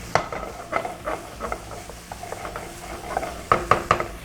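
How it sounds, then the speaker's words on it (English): Tomatoes are stirred and sautéed in a pan, with a low sizzle beneath repeated spoon scrapes and knocks, a quick cluster of sharp taps near the end. "we just keep stirring this, and we break down the tomatoes to kind of release its moisture, and we just keep sauteing"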